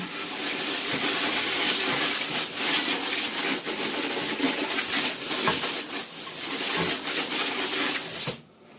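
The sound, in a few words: pressurized water spray soaking Tigernu T-B314 backpack, simulated rain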